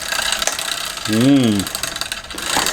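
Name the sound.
bicycle gears shifting badly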